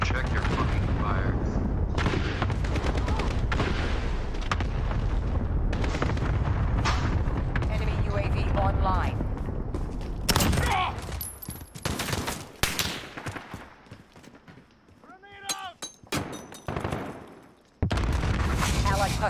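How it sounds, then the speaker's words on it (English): Cluster strike explosions in Modern Warfare hit as a dense run of loud booms and rattling gunfire. Player chatter and game voice lines run over them, and the clip ends on one sharp final blast. "Enemy cluster strike incoming."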